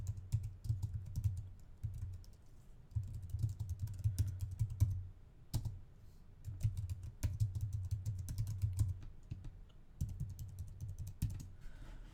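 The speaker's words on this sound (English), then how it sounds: "So I'm free to just start typing whatever I want." Someone types on a computer keyboard, quiet, quick bursts of key clicks in rapid runs separated by short pauses, close and alone.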